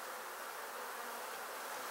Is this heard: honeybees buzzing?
yes